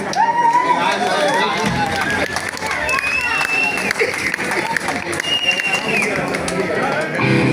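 Applause and crowd noise at an outdoor band concert in Arrigorriaga, a steady, loud wash of clapping mixed with cheering voices and music.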